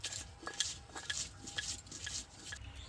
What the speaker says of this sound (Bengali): বন্ধুরা আমি তো শিলে বাড়ছি আপনারা চাইলে মিক্সি তো করে নিতে পারেন